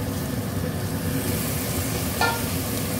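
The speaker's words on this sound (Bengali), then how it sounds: "এবার এই মটনগুলোকে এর মধ্যে ঢেলে দেবো।" Mutton pieces tipped into a pan of lightly browned onions and bay leaves, giving a steady, close sizzle of frying with a brief clatter near the end and no talking.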